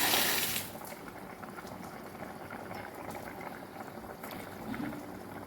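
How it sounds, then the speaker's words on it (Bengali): A fish curry with potatoes simmers in a pot while fish pieces are slipped in, giving a steady close bubbling and gentle liquid churning after a brief louder burst at the start. "তো চলো এরপর আমি আস্তে আস্তে করে এর মধ্যে মাছগুলোকে ছেড়ে দিই"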